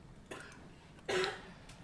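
Two short coughs from someone nearby in an office, the second louder and harsher, against a quiet room.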